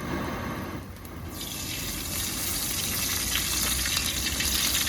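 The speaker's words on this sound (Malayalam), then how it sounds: "പപ്പടം വറക്കാനായിട്ട് നമുക്ക് എണ്ണ ഒഴിച്ചു കൊടുക്കാം" Cooking oil pours into a pan set on a lit stove for frying papadam, a steady liquid rush that swells into a continuous hiss and sizzle, with no talk.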